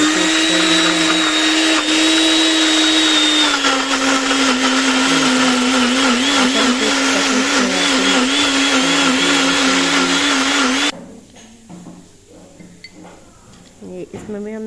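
Blender grinding green chillies with oil into a paste, a loud steady motor whine that runs close and unbroken for about eleven seconds, then cuts off, leaving quieter rattles and clinks.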